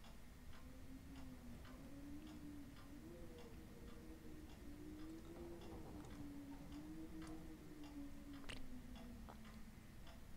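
In the Resident Evil 7 video game, a faint clock ticks at a steady pace above a low, wavering drone like wind, with an occasional creak, quiet and continuous, with no speech.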